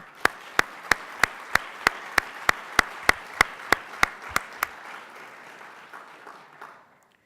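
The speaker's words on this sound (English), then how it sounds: "a round of applause for everybody" Applause at a cyber-security employer panel event: about fifteen sharp, evenly spaced claps in a steady rhythm, loud and close, fading out after the last one with quiet room noise behind.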